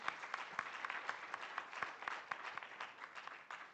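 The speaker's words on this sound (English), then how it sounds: "Let's give her a round of applause, please." Faint, distant applause from a conference audience at an arbitration week event in Nairobi as a director is invited on stage, steady with scattered sharper claps.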